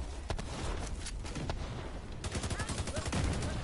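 Dense, continuous gunfire in a video game as a turret is blown up, with rapid shots and booming blasts sustained throughout at high volume.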